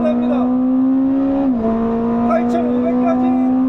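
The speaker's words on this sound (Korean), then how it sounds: "실내에서 들리는 엔진, 이 캐빈 속을 울리는" A 1050-horsepower Ferrari engine drones loudly from inside the cabin on a wet track, holding a steady high note, dipping briefly as the gear shifts, then climbing again.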